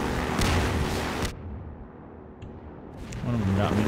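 Rocket explosions in the Half-Life 2 video game: a heavy booming blast with rushing debris at the start, then a quieter lull and another rumbling burst near the end, with a voice talking faintly over it.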